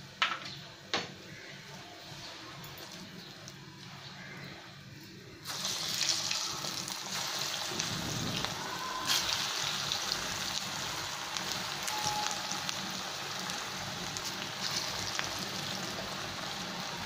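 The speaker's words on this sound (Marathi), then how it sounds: "अशाच प्रकारे आपल्याला बाकीची पण भजी तळून घ्यायची आहे." Chana dal pakodas (bhaji) fry in hot oil with a continuous bubbling sizzle. It starts softer, then a louder, busier crackling begins partway through as fresh batter goes in, with scattered pops and clinks over the steady hiss.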